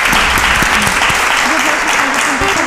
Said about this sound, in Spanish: yo creo que se merecen un fuerte aplauso